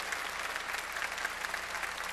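A church congregation applauds during a sermon, a steady, dense wash of many hands clapping together, evenly sustained throughout without speech.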